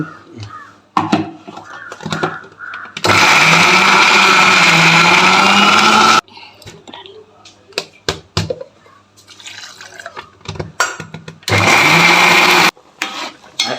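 A mixer grinder whirs loudly in two bursts, a few seconds each, separated by quieter clinks and handling noises in a kitchen.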